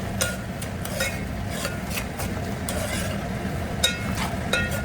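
Onions and chilli fry in a pan while being stirred for a semiya upma breakfast. A steady low sizzle runs throughout, broken by repeated scraping and clinking of a spatula against the pan at an irregular rhythm.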